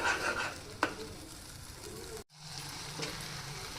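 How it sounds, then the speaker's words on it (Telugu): Capsicum curry frying in oil in a pan gives a soft, steady close sizzle, with a few spoon scrapes and a brief break partway through. "ఇది బాగా నూనెలో మగ్గాలి."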